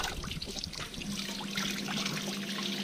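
Beijing grass, a fresh-cut medicinal plant, being rinsed under running water at a farmhouse: a steady close trickle and splash of water flowing over the leaves, continuous and fairly soft, with no voices.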